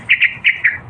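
A small purple-looking bird chirps near its nest of eggs, four bright short tweets in a quick uneven series, close and clear over faint low background rumble.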